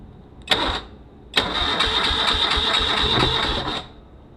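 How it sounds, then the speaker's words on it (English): A 1973 BMW motorcycle engine cranks over in two bursts, a short one and then a steady, even churning that runs for about two and a half seconds at close range, with no voices. "It's spinning over quite nice."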